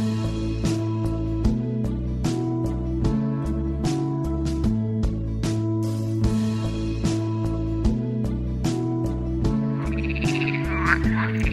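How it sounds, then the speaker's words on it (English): Bullfrog croaking in deep, repeated resonant calls, loud and close, with a steady rhythmic pattern and no speech. "A bullfrog."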